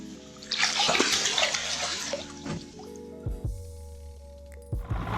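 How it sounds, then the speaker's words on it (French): A fish being released back into the water of Lake Memphrémagog after spinnerbait fishing: a close splashing swirl, then a few small drips and plops, alone. "Pour remettre un poisson dans l'eau, qu'il reprenne des forces."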